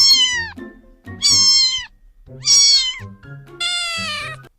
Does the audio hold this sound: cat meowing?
yes